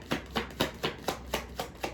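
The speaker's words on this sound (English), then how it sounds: "I feel like I'm learning how to shuffle these cards right now" A deck of playing cards being shuffled at a game table, giving seven evenly spaced crisp riffling bursts at a steady rhythm, close and moderately quiet, with no talking.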